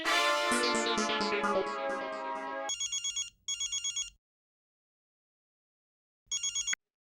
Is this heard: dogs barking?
no